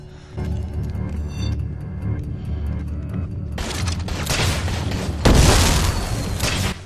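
Fish gun from the video game Dead Rising 4 firing exploding swordfish, a run of booming blasts and crackling bursts that grow louder and denser, ending in a heavy explosion with sparkling debris, no talk.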